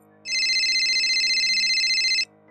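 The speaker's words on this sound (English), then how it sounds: "then my phone rang in my hand, startling me" A mobile phone rings, a loud electronic ringtone pulsing steadily for about two seconds before cutting off abruptly, heard alone with no talk.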